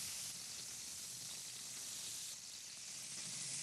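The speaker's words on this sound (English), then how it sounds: "We're deglazing with some rice vinegar" Steady hissing sizzle from a hot pan as rice vinegar and dry white wine hit caramelized tempeh, loud and continuous with no talk.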